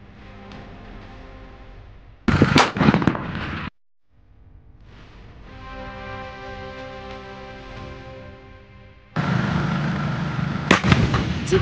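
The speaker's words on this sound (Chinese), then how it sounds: "马上准备开展另一场激光制导炮弹实弹射击训练" Live firing of laser-guided artillery shells during military training exercises, heard as two loud, sharp blasts from self-propelled guns with a rumbling interval between them and no talk.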